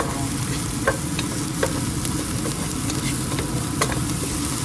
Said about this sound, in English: So once that goes in, saute this